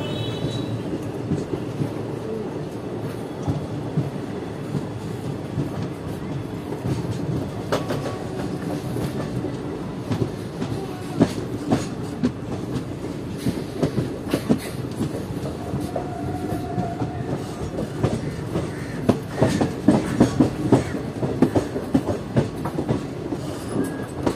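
Kaviguru Express passenger train heading toward Howrah, a continuous rumbling roar from inside the carriage with rhythmic clickety-clack of wheels over rail joints, steady and loud throughout.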